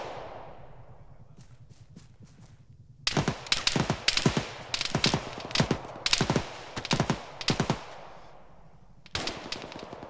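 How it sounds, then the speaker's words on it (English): Gunfire in the video game Arma 3, with faint distant shots early on, then loud, close bursts of rapid automatic fire in short clusters separated by brief pauses. "That could be him shooting."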